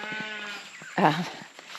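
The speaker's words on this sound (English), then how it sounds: "Just in case you're wondering why that lamb is so upset, or sheep." An upset sheep, an older wether, bleats loudly and close in a garden setting, one long quavering cry that swells near the middle before trailing off, with no talk over it.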